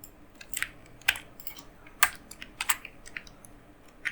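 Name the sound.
typing on a computer keyboard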